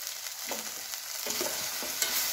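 Vegetables and tomatoes for sambar being stirred in a pan over medium flame, a soft continuous sizzle with several scraping strokes of the spoon close up, no voices.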